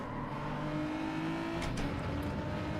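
Race car engine in Gran Turismo 7 holding a steady loud drone with a rising whine during an overtake, with brief bright bursts near the end; no talking.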